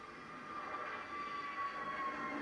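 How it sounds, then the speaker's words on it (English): An airplane taking off from Southend Airport, heard from a nearby back garden: a steady, fairly faint broadband jet roar with a faint whine, slowly swelling. "28 planes like this are scheduled to take off today"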